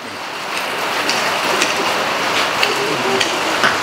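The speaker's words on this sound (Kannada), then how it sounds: "ಒಳ್ಳೆ ಮಳೆ ಬಂದ್ಬಿಡ್ತು ನಿಮ್ಮ ಹರಪನಹಳ್ಳಿಯಲ್ಲಿ" Rain falling steadily in Harapanahalli, a dense hiss of drops with a few sharper patters rising over it, close and fairly loud, with no talking.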